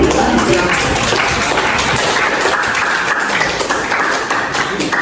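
An audience of students in a classroom presentation claps hands together, a loud, dense, continuous burst of applause filling the whole stretch without pause.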